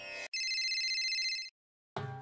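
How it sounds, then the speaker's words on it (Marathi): An electronic telephone ringtone trills in one sustained burst of just over a second, loud and close, with brief voice-like sounds just before and after it. "शंतनूच्या बॉसचा फोन"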